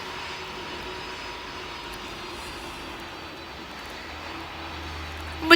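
The jet engines of an Airbus A330 run at 25% throttle. They make a steady, moderately loud whine and rush heard from inside the aircraft, holding level throughout.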